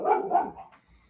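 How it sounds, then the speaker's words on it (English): Dogs barking nearby, two loud barks in quick succession that fade into a brief whimper, with no talk. "that's the dogs getting after it."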